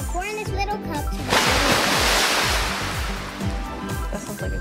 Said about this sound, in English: Just gonna open it and pour water.